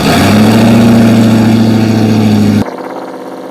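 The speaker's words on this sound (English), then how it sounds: "I'm gonna start the engine to get the pump running" An Audi R8 engine starts and settles into a loud, steady idle close by, the even drone running for a couple of seconds before it abruptly drops away to a faint hum.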